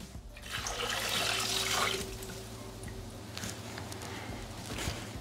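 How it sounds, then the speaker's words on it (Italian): Water poured into the jug of a Bimby Thermomix food processor while making chickpea and mushroom soup, a steady rushing splash that swells in the first two seconds then settles into a softer trickle, close and alone. "Aggiungere l'acqua"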